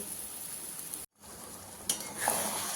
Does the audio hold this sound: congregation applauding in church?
no